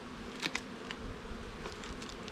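Honey bees hum in a low, steady buzz around an open five-frame nuc box during a hive transfer in Jamaica, faint and continuous with a few soft knocks.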